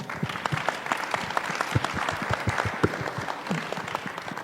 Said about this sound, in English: let's give them an applaud